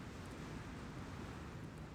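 Ship engines idle on the ground in Star Citizen 3.24, a steady low rumbling hum that holds at an even level without a break.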